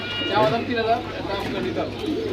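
Pigeons coo at the busy Jinjira pigeon market in Bangladesh, soft throaty calls rising close by while human voices murmur underneath.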